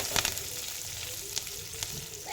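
Green chillies, curry leaves and turmeric sizzle steadily in hot oil in a pan, a continuous crackling hiss with a few sharper spits and pops, fairly close and moderate in level, with no talk.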